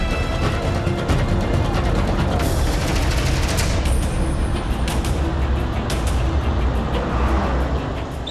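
A car driven fast, its engine roaring with loud, continuous broadband road and wind noise throughout, dense and close, with no speech heard.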